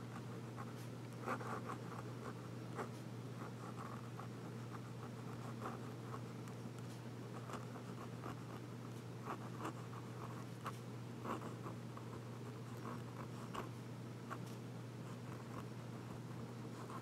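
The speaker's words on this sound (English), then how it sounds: "Now let's do some small writing." A Fountain Pen Revolution Indus or Jaipur fountain pen writes small letters on paper, giving faint repeated scratchy strokes in a steady rhythm over a constant low hum, with no talking.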